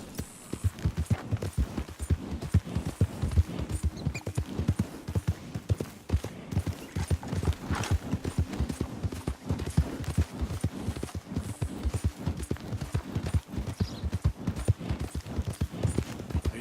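Horse hooves galloping in Red Dead Redemption 2, a steady rapid clip-clop rhythm that runs continuously and close, with no voices heard.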